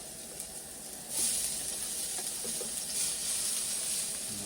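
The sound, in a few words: garlic sizzling in pan on Coleman stove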